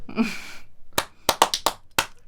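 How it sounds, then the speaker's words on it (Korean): Several sharp hand claps ring out in an uneven burst after a short spoken phrase, close and fairly loud, at a Korean talk show. "박수쳐."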